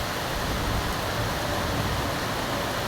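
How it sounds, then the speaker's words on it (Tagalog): A continuous, dense hiss of heavy rain pouring down, loud and unbroken with no gaps or voices. "grabe kakasog ang ulan guys"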